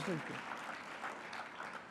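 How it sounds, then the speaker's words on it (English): An audience applauds briefly at a community college award event, a steady patter of clapping with a speaking voice over it. "Yeah, you can applaud on that."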